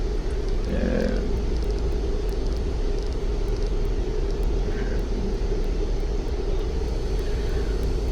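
Steady, loud engine roar of an MD-80 airliner taking off in the X-Plane 11 flight simulator, a constant broadband drone with no break.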